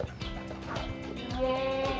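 Sheep bleat nearby while eating wild grass, wavering nasal cries rising over a steady background of munching and farmyard rustle.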